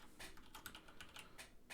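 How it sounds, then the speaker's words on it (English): Rapid typing on a computer keyboard, a steady run of close, crisp key clicks with no voices. "So I'm selecting a text message and I'm typing"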